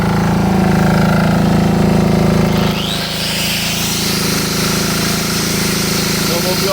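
A diesel welder's engine runs loud and steady close by, a constant droning mechanical hum that shifts pitch slightly partway through as the load changes, with no pauses.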